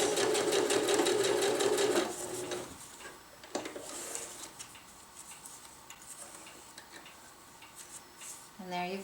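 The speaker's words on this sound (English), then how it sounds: "slide it under my foot, and just sew it in place" A sewing machine stitches a hem on hammock underquilt protector fabric, running in a steady, fast, loud mechanical whir for about two seconds, then stopping, followed by quieter handling clicks and rustles.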